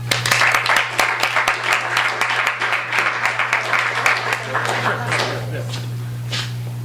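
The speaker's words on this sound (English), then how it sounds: "Let's please give a warm round of applause to our three readers." Audience applause for three readers at a live literary reading show, a burst of clapping that fades and thins toward the end over a steady low hum.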